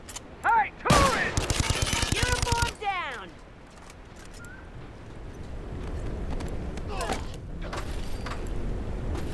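Turret gunfire erupts in The Last of Us, a dense loud burst of rapid shots lasting about two seconds, with shouting voices before and after over a steady rumbling game background.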